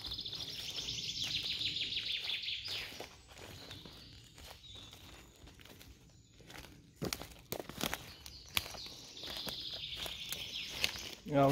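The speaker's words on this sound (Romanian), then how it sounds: "Ce frumos aud păsărelele cum ciripesc." Birds chirp in a forest during mushroom picking, with faint high trills at the beginning and again at the end, while footsteps crunch nearby on the forest floor.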